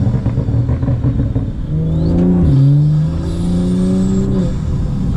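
A BMW F30 335i fitted with a BMS Elite performance intake revs up loudly, its engine note climbing and falling through a couple of throttle blips, with whooshing intake sounds and a faint high whistle.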